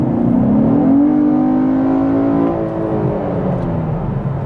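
A car engine revved at full throttle, a loud, steady drone whose pitch climbs for about two seconds and then settles back into a slightly quieter hum, with no voices over it.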